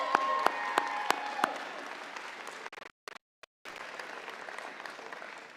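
Applause from an audience at a nursing pinning ceremony, a steady wash of clapping with a few sharp louder claps early on, briefly cutting out before resuming.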